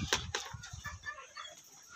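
Chickens kept free-range on natural feed cluck and squawk in a few short bursts close by, with soft scratching and rustling in between and no voices.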